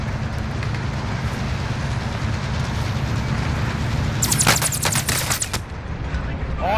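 A train rolls past in Call of Duty Warzone, a steady low rumble throughout, joined near the end by a burst of sharp gunfire cracks.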